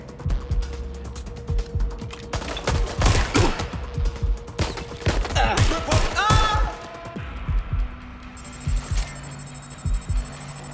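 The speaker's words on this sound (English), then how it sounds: "Shots fired! Shots fired! Help, please! Taking fire!" Gunfire in the video game Watch Dogs: Legion, a dense burst of sharp shots and mechanical clatter that stays loud and close, then thins out to a few scattered noises and a steady electronic tone near the end.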